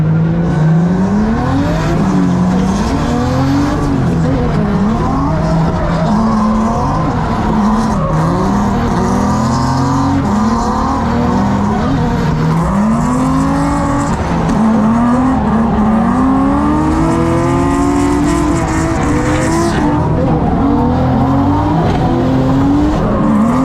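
A Nissan S14 drift car skids through sustained tire squeal, its engine rising and falling in loud, continuous wavering revs for over twenty seconds, close and without talk.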